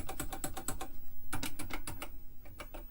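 Fast, uneven key clicks typed on the keyboard of a late-1970s Micro-Term ACT-1A serial terminal, some keys bouncing; two close bursts of rapid clatter separated by a short pause.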